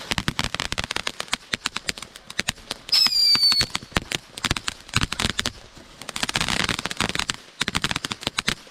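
Consumer fireworks go off in rapid crackling bursts with dense popping and sharp bangs, plus a brief whistling shriek, continuing in loud clusters separated by short pauses.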